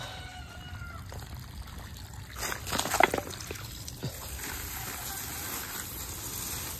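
Steady rush of running water for watering trees, with a louder splashing surge partway through; no voices.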